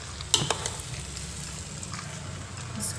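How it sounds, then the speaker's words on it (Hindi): Rice and masala frying in ghee while being stirred, a steady close sizzle with a few sharp scraping clinks of a spoon near the start, continuing evenly throughout. "इसको अभी हिला रहे हैं ताकि सब मसाला सब राइस के पीस में जाए"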